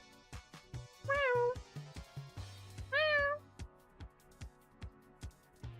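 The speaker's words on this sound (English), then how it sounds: "My cat is starting to be impatient" A cat meows impatiently, two clear rising-falling cries a couple of seconds apart, close and loud, over a soft repeating rhythmic background and faint clicking.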